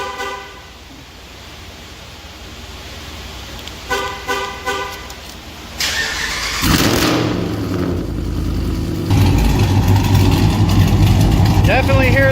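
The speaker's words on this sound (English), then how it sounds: "Definitely hear that Greene cam in there." A straight-piped Ram 5.7 Hemi with a Greene cam, JBA long-tube headers and 5-inch exhaust tips starts quiet with a few short honks, then barks into loud, rough revving that holds and swells toward the end.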